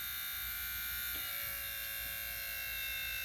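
A small electric window lift motor from a Triumph Stag whirs with a steady high-pitched buzz, constant and close, with no talking.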